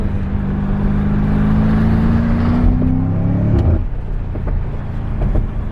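A BMW M5 F90 accelerates hard, engine note climbing steadily in pitch toward redline, then dropping sharply at a gear change before resuming a lower, steady pull, loud and close from inside the car.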